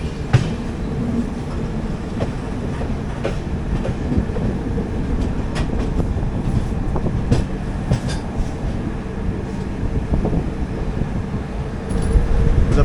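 The 12202 Kochuveli–Lokmanya Tilak Garib Rath Express runs over a bridge into Shoranur Junction, heard from on board as a loud, continuous rumble with rhythmic wheel clatter and rattling carriages throughout.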